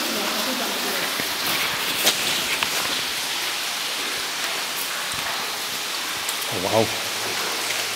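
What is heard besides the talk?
rain in a wet abandoned railway tunnel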